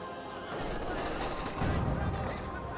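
A rifle grenade fires in a Company of Heroes 2 battle, a sustained roar of gunfire and blast noise building over nearly three seconds, loud and dense, with voices underneath.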